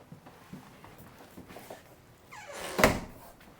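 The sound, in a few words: RV bedroom storage compartment being opened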